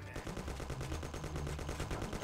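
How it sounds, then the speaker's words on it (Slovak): Rapid automatic gunfire in the Mafia video game as cars' engines are shot at, a dense continuous burst of loud shots with steady rhythm and no talk. "Je dôležité teraz strieľať po motoroch aut."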